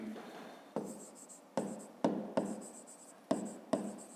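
Pen writing in a notebook during a fifth-grade maths exercise: scratchy strokes with sharp onsets recurring every half second or so, close and fairly quiet, with no talk.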